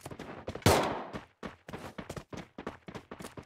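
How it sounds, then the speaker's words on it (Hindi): In the video game Free Fire MAX, a single loud, sharp gunshot rings out early, followed by a string of short, choppy bursts of sound. "मेरा भाई तो अभी गोली चला रहा है"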